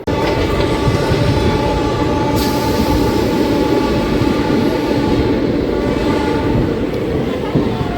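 A DEMU passenger train running between Kurnool and Guntakal produces a loud, steady interior rumble and rattle throughout, with continuous wheel and carriage noise close by.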